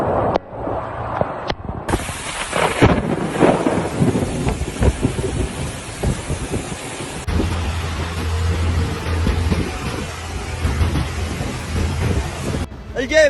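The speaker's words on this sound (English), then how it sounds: "the winds howled, and the skies opened, releasing torrents of rain upon the Kaaba" Heavy rain pours down at the Kaaba in Mecca while thunder rumbles and cracks, with voices talking now and then beneath the downpour.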